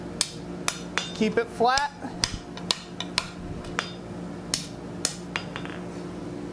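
Hot iron is hammered on an anvil while a piece is upset for forge welding branching scrolls, with sharp metallic blows in an irregular series, a short run of ringing clanks in the middle, and a brief spoken remark.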